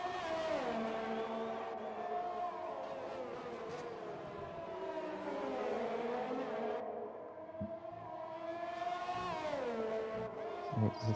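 A Renault Formula 1 car in F1 2020 screams at high revs through a lap, its engine note sweeping up and down with gear shifts and easing for corners. The sound is loud, continuous and close.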